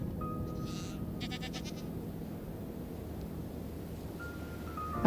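Several goats bleat in Minecraft, a quick burst of wavering calls early on, then quieter ambience with a thin electronic tone, ending in a short sharp knock.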